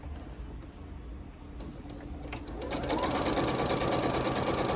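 Large Jubilee sewing machine stitching a quilt, running steadily with a rapid mechanical whir that grows louder and busier partway through, straining as if near to breaking a top thread; no one talks.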